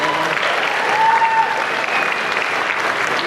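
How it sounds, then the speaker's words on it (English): A convention crowd at a cosplay contest applauds a group dressed as Overwatch characters, loud continuous clapping filling the room for a few seconds. "Give a round of applause, guys."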